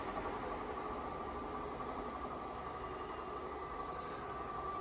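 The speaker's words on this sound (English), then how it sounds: "Can't get enough of the sound of the class 730." A West Midlands Railway class 730 electric train, two units coupled, passing as a steady, fairly quiet hum and rumble with no clear peak, no voices.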